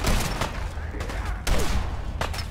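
Shotgun blasts in a modded Fallout 4 firefight, loud booming shots landing roughly every second, each with a sharp crack and a short rumbling tail amid continuous background combat noise.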